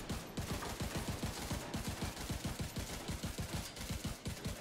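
A rifle in The Division 2 empties a full 55-round magazine in one unbroken rapid burst, with evenly spaced shots of steady loudness.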